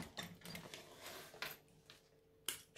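A sewing machine stitches a bi-fold wallet in short, faint mechanical runs, with soft rhythmic whirring and clicking bursts separated by pauses.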